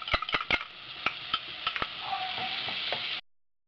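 Chopped onion hits a hot pan and sizzles steadily while a utensil clinks and scrapes against the pan in several quick strokes, close up, until the sound cuts off.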